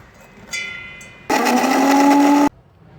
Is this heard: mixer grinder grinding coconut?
yes